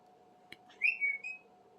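Smokey, an African grey parrot, gives a brief, soft whistled note with a slight rise, preceded by a faint click, close by in a quiet room.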